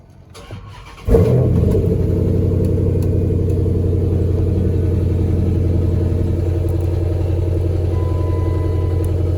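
A Dodge car with a 392 engine cranks and fires after about a second, then settles into a loud, steady, deep idle that continues close up to the end.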